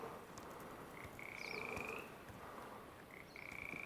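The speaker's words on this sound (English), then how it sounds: "I'm talking to the frog, because I would start to lose, because that's all you hear." Frogs croak near water at night, repeated drawn-out trilling calls rising over a soft noisy background, two long bursts with short chirps between, close and clear with no talking.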